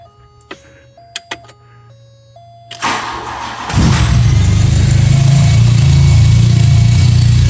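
Unrestored 1981 Volkswagen Scirocco S with CIS fuel injection, started cold on a warm day: a few sharp clicks and a chime, a brief crank, then the engine catches and settles into a loud, steady idle.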